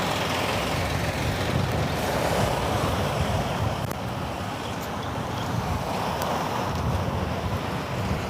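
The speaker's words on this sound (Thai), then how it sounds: "เดี๋ยวมาเที่ยวทะเลกันนะคะ เราพากันมาที่หาดสมีลาค่ะ" Sea waves and wind at Samila Beach, a steady, loud wash of surf and gusting wind buffeting the microphone, continuous throughout with no voices.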